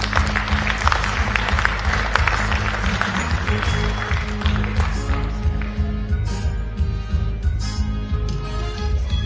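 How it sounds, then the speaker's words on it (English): Audience applause at an annual gala fills the room, a steady wash of clapping over a loud music bed that continues throughout. "A round of applause, please."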